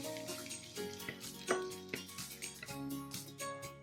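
Garlic sautés in olive oil in a pan over medium heat, giving a steady, close sizzle and crackle with faint stirring, while background music plays underneath.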